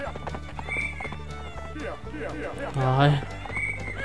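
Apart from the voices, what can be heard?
horse neighing and hooves in video game Survivalcraft 2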